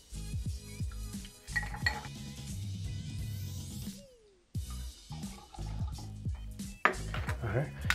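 Gin measured out for a Bramble cocktail: glass and metal clinks and taps, a short pour with liquid trickling, then more clattering of a jigger and bar tools at close range, with no voices.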